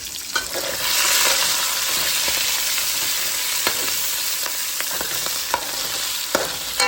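Food sizzles and fries in a Jamaican-style cast Dutch pot while being stirred, a steady close hiss with scraping strokes and clinks of the utensil against the pot.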